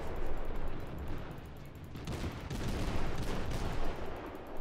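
Naval gunfire in the World of Warships game, a Kolberg cruiser, rumbles as dense overlapping salvos and booming impacts, a continuous loud barrage with sharper bursts in the middle and toward the end.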